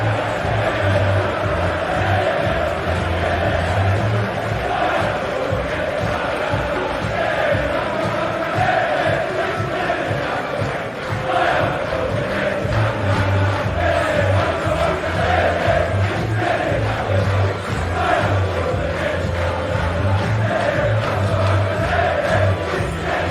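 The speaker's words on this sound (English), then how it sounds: "here's another look at how the away fans responded to Kai Havertz" Arsenal away supporters at Bournemouth chant for Kai Havertz after the final whistle of a Premier League match, a loud, sustained crowd song with steady pulsing rhythm filling the stadium end throughout.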